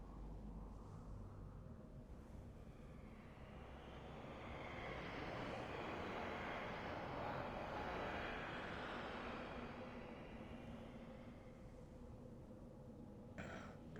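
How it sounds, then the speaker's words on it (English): A gunship aircraft in the Borderlands video game roars steadily through the whole stretch, a broad engine drone that swells louder in the middle and then eases off, with no talk over it. "Gunship."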